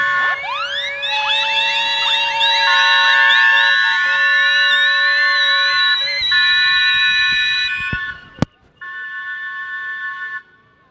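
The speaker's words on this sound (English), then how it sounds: "they're blowing the whistle because they've got a whistle the same as the full-size ones" A miniature steam engine at a steam rally sounds its whistle, which is modelled on a full-size one. Loud, shrill, sustained blasts sound close by, then cut off sharply, followed by a shorter final blast.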